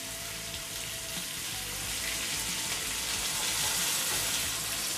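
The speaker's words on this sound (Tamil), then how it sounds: "அப்போ தான் மீன் 2 பக்கமும் நல்லா வறுபடும்" Chettinad-style fish (meen varuval) frying in a pan, a steady dense sizzle of hot oil crackling continuously throughout at a close, even level with no talking.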